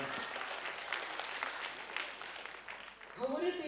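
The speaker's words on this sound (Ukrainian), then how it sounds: "Оплески!" A concert audience at a Ukrainian folk song festival honoring a singer applauds steadily at a moderate distance, a continuous wash of clapping, and a voice begins speaking near the end.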